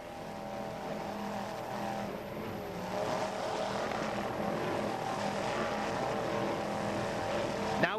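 A racing powerboat with two 420 horsepower Mercury inboard engines roars steadily at a distance, a continuous throaty drone that swells slightly partway through.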